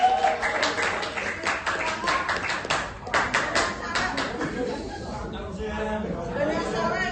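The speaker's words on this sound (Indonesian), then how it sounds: "Berikan tepuk tangan dulu Fajar." A class claps for a student named Fajar during a guidance lesson, with brisk scattered hand claps over the first five seconds amid chatter, fading into voices afterward.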